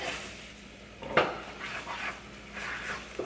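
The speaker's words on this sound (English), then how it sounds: "Now you're just gonna mix all that in together." No-carb spaghetti noodles being stirred into a watery sauce, with soft wet stirring and a brief scrape around the pan, fairly quiet and without talk.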